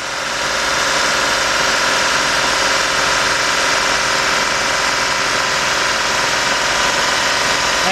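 A 2004 Chevy Monte Carlo with the 3.4 engine idles during intake manifold gasket and head gasket repair work, giving a steady, close, unbroken mechanical hum with constant vibration throughout.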